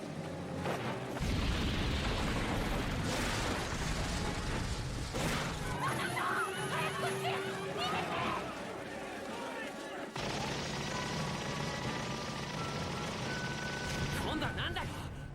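Anime battle audio from Gundam SEED Destiny carries gunfire bursts, booms and crashing impacts over a dense score, with dialogue running through the mix.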